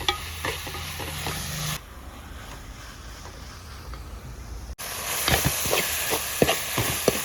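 Onions with a little salt sautéing in a pan for a Kerala-style squid roast, a steady close sizzle with stirring scrapes that briefly drops to a quieter hiss before the loud sizzling returns.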